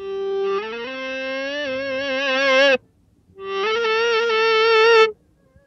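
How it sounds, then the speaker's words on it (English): Reverse-sounding electric guitar notes played with an EBow swell gradually up to a peak and cut off sharply, two long sustained phrases separated by a short silence, loud and clean without speech. "Ever heard a guitar solo played back in reverse?"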